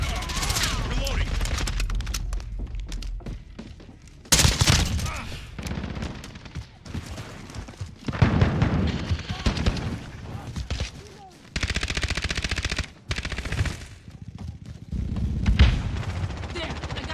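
Gunfire in a video game: bursts of automatic and single shots, loud and dense in clusters with quieter gaps, heard with game audio and some speech.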